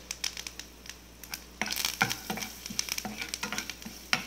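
Coriander seeds and curry leaves fry in hot oil with a soft continuous sizzle, broken by sharp crackles and pops and a few stirring scrapes, growing busier partway through, close by with no talking.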